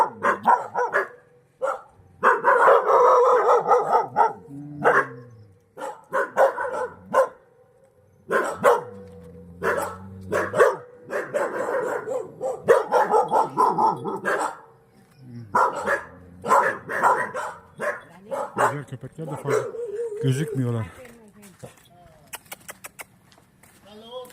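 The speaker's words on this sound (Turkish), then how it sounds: "güzel köpekler ya. Çok güzel." Several dogs bark repeatedly in loud, irregular bursts, some yelping, close by, with people talking between and over the barking.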